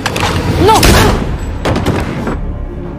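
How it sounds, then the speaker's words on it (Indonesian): Gunfire crackles in a short, loud burst during an action film scene, with a sweeping whoosh and voices mixed among the shots. "dia pun akhirnya langsung ditembak mati"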